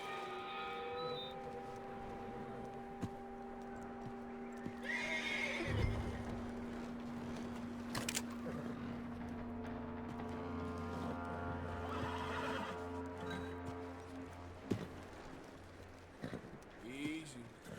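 A horse in Red Dead Redemption 2 whinnies and snorts amid soft in-game ambience, with a voice calming it, the neighs fairly close and rising over a steady background.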